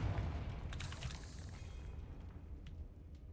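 Confringo fire spell blast in Hogwarts Legacy: a muffled low boom opening the moment, then a rumbling fiery decay that fades over a few seconds, fairly quiet with no talk.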